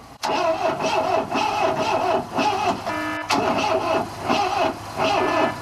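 Ford Escort Mk3 engine cranking on its starter motor, a loud continuous churning that drops out for a moment and starts again without catching.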